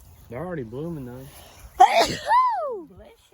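A person sneezes once, sharp and close, outdoors in a potato patch on a farm, with a short hum of a voice just before it.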